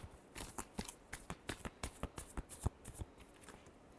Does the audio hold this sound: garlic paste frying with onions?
no